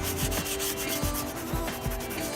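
A sponge rubs melted Briwax into rough salvage timber in quick repeated strokes, each a close, dry scrubbing swish in a steady rhythm, with no voices.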